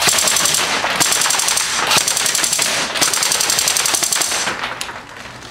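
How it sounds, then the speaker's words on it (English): Toy guns fire in rapid, loud bursts at a cardboard box fort, sharp repeated pops coming in clusters across the whole span with little pause. "Should probably shoot more at them."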